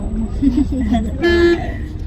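A car horn blares steadily for about a third of a second amid traffic rumble, with people talking over the road noise.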